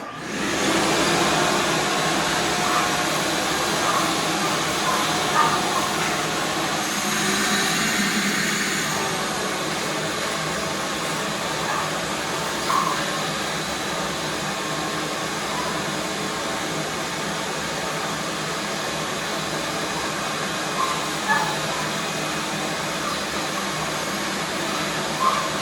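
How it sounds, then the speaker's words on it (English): A vacuum cleaner runs continuously with a steady, fairly loud whooshing drone that shifts slightly in tone early on and then holds even, with a few faint knocks over it. "right now I'm going to vacuum just so you can see what that looks like a little bit"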